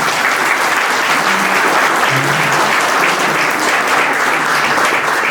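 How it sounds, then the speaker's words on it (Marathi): A large audience at a Buddha statue installation ceremony in a housing society's Buddhist temple in Lohgaon, Pune claps loudly and steadily, dense sustained applause throughout. "जोरदार टाळ्या झाल्या पाहिजे"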